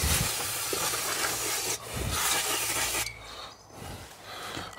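New brake pads for rear brakes on a Sprinter Crafter van scuffed by hand to strip the protective coating, with harsh raspy rubbing strokes in close, uneven bursts and short pauses.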